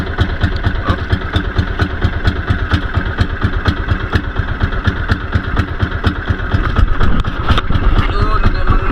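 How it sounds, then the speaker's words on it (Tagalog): A small fishing boat's engine idles loudly and close with a rapid, even chugging pulse, with indistinct voices underneath. "Mandar makina ni Kuya Kim mga idol."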